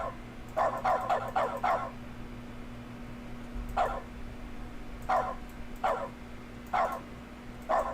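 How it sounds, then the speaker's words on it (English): Repeated barks from a dog in The Stanley Parable: Ultra Deluxe: a quick burst of four barks, a pause, then single barks at steady intervals over a faint constant hum. "I'm going to simulate being a dog."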